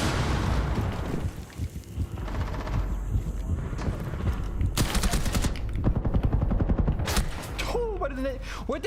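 Video game combat with rapid automatic gunfire and a C4 explosion, loud, dense and continuous, with sharp bursts of shots and a heavy boom partway through.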